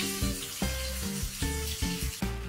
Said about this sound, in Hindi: अनियंस को ट्रांसलूसेंट पिंक होने तक हम फ्राई कर लेंगे